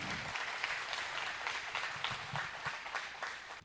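Audience applause in a spiritual gathering hall welcoming a visiting female teacher, a steady wash of many hands clapping at moderate distance, fairly soft, continuing without a break before tapering off near the end.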